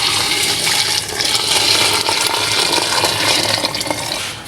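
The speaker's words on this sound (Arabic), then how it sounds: "بدنا ننزل فوقهم ب3 لتورة من المي السخنة" Three liters of hot water pour into a soup pot of roasted vegetables, a loud, continuous rushing splash that holds steady for several seconds before easing off at the end.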